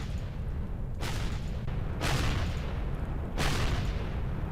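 Three heavy bursts of weapon fire, machine guns and rockets, in the space survival game Empyrion - Galactic Survival, each a broad blast about a second apart over a steady low rumble, loud and close.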